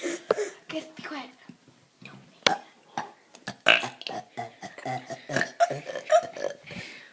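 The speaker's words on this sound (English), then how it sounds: "We have an orchestra of burping today, don't we" Several people, including children, burp repeatedly in an indoor setting, a loose chorus of short and drawn-out belches of varying loudness scattered across the stretch, with some quiet breathy sounds between them.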